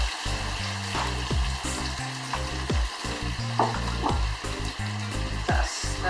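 Coconut milk is stirred in a hot pot with a pinch of salt and black pepper, a steady close sizzle with a few scraping stir strokes over it and no talking.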